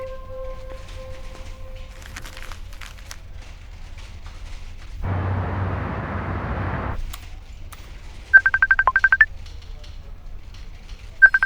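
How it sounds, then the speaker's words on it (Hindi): An incoming call rings on a computer, a short electronic tone repeating in a quick burst of pulses, then starting again, preceded by a brief rush of noise. "देव का फोन कंप्यूटर पे कैसे आ रहा है?"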